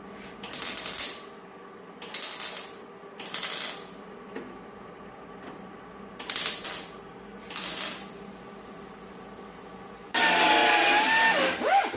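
Welds being ground down on a Pontiac patch panel: several short bursts of grinding about a second each, separated by pauses, then a longer, steady, louder run of grinding at the end.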